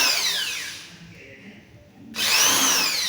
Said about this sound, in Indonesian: Bor sesuai tempat spidol tadi